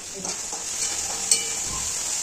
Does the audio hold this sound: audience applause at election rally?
no